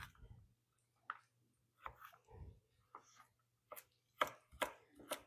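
A knife quarters vegetables for seafood chowder on a cutting board, giving sharp, close, irregular chops with short pauses between cuts, heard alone over a faint low hum.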